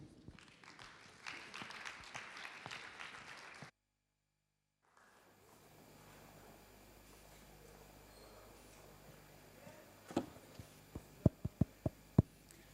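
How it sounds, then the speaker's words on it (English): Brief polite clapping from a lecture audience at a talk on urban biodiversity in Brussels, followed by a silent gap, then quiet room noise with a few sharp knocks near the end. "Je vous demande d'applaudir Nico Koedam"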